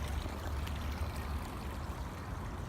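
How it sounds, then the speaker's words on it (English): Natural water running steadily in an outdoor stream along a gravel path in Portland, Oregon, a continuous low rushing wash at moderate distance with no talking. "over here on this side you can see the natural water again just running"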